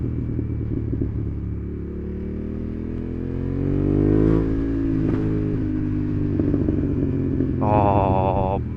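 A Honda CB750 Hornet motorcycle engine drones steadily while riding, rising in pitch as it revs up and eases off, with wind rumble throughout and a short burst of higher revs near the end.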